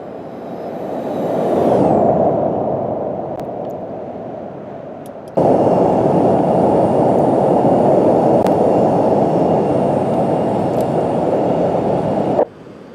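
A Cessna Citation C-560XL business jet in X-Plane 12 roars past in a flyby, a loud steady broadband engine rush that swells, eases, then jumps abruptly louder and holds before cutting off sharply near the end.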